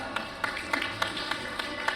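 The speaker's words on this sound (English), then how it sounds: "A round of applause" Sparse applause at a climate-focused ESG conference session in Hong Kong after a guest is introduced, a thin run of about seven evenly spaced claps or taps, moderately faint in a reverberant hall.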